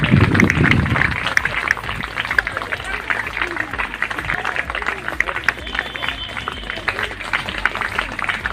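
Children at a tribal pride day celebration at a residential school give sustained, dense applause to welcome guests, with a loud crowd of clapping hands mixed with voices and chatter throughout.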